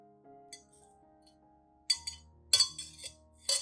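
A teaspoon clinks against a clean glass as coffee is added, giving several sharp, bright taps in an uneven rhythm over a faint low rumble.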